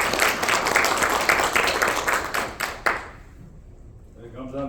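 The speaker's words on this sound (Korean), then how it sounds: "큰 박수로 다시 한번 맞이해 주시면 감사하겠습니다" Applause for a company founder welcomed at an academic seminar in Korea, a dense crowd clapping loudly for about three seconds before fading into a quiet room with a voice beginning to speak.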